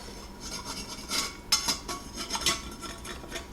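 A utensil scrapes and taps inside glass canning jars of hot turkey broth poured over meat, working out air bubbles with a series of close, uneven rasping strokes and clinks.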